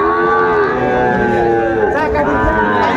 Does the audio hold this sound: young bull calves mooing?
yes